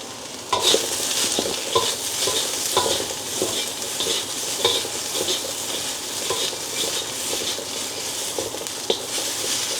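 Seafood sizzling and being stir-fried with oyster sauce in a hot wok, a steady loud crackle broken by repeated scraping and tossing strokes of a utensil against the metal.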